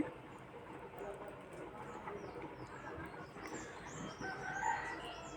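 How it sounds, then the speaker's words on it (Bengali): Chickens cluck and murmur steadily at close range while eating rice, with a few brighter calls rising over a busy, continuous background of scratching and pecking. "দেখেন কত সুন্দর মুরগিগুলো"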